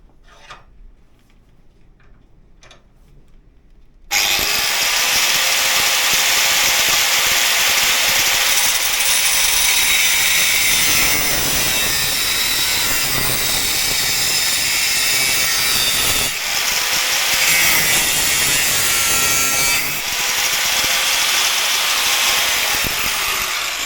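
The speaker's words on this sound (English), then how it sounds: "Cut it with the angle grinder." An angle grinder cuts into a Honda CB77 footrest, starting after a few quiet seconds with a sudden loud, close, harsh metallic screech that carries on steadily for about twenty seconds with slight shifts in pitch as the cut progresses.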